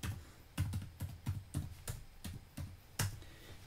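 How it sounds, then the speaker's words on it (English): Values being typed on a computer keyboard into an Excel workbook, a quiet close run of soft key taps at an uneven, roughly steady pace with no voice. "If I type some values in here,"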